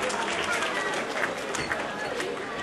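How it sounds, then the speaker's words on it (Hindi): An audience at a poetry recital gives loud, dense applause to welcome the poet, a continuous wash of many hands clapping in a hall with crowd murmur mixed in. "जोरदार तालियों के साथ अभिनंदन कीजिए कवि दिनेश देवगरिया"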